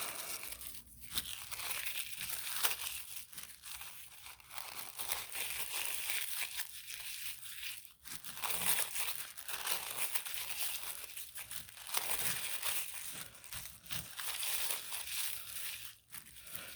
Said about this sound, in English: then you want to crinkle it up